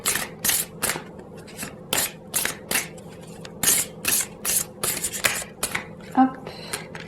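A deck of oracle cards is shuffled by hand, giving a rapid series of crisp, riffling bursts in an even rhythm, close and fairly loud, with a small click near the end.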